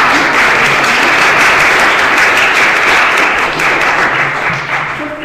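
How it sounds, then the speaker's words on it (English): Loud, sustained applause from an audience honoring a university bioethics panel, thick clapping that holds steady and then tapers slightly near the end. "So can we just have another round of applause?"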